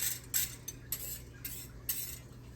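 Whisk clinking against a bowl while stirring Worcestershire sauce, ketchup and brown sugar, a series of sharp metallic taps roughly every half second over a steady low hum, close by with no talking.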